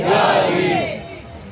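A large crowd roars a religious slogan in unison at an Urs gathering, a loud sustained chant of massed voices that fades over about a second and a half.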